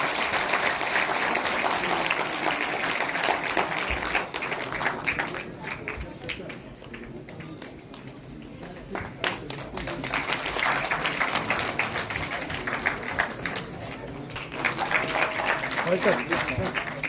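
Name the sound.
audience applause at theatre event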